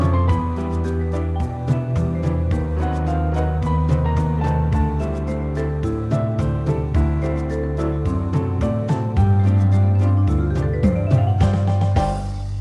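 A ballroom Latin arrangement played by a full orchestra, dense and busy with steady percussion, bass and layered melodic parts throughout, loud and continuous without any talk.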